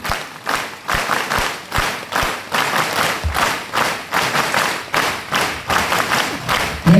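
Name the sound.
audience clapping together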